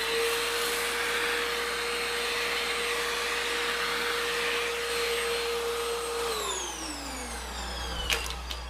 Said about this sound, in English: I'll quickly vacuum off the table real quick.